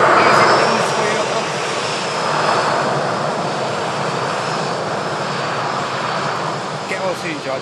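Boeing 757 on a test flight, a loud steady engine roar that fills the whole stretch with little change, like a nearby pass, with no talk.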